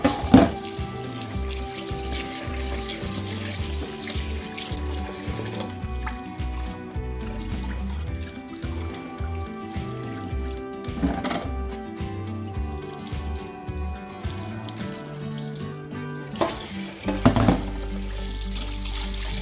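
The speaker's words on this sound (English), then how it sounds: "now we're gonna wash the rice" Tap water runs continuously while rice is rinsed in a bowl before cooking in a clay pot. The splashing and trickling stays steady under a musical background, with a louder splash near the end.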